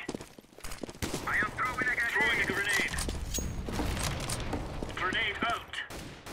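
Scattered gunfire and grenade blasts during a CS:GO match pop and thud at a moderate distance beneath a steady stream of talking.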